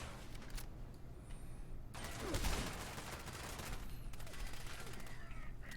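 Rapid automatic gunfire in Fallout 76, a sustained burst that swells over a few seconds amid steady game background noise, moderately loud and continuous.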